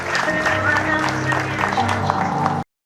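Audience at an academic graduation ceremony clapping, a dense broad burst of applause mixed with crowd murmur that cuts off abruptly near the end.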